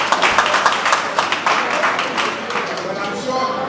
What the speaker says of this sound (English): Guys, let's clap for table 1.